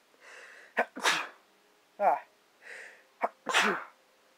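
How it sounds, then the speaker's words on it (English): Two loud, close sneezes a couple of seconds apart, each with a sharp intake of breath before the burst. "I need to sneeze."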